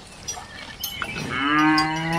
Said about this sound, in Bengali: কাউ, কাউ মানে গরু, তার ছানাকে বলে কাপ, বাংলায় বলে বাছুর